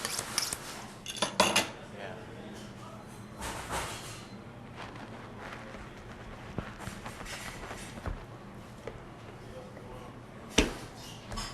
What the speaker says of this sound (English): I'm going to cut off a chunk that's about a 10-ounce steak, and then I'll trim the fat off of it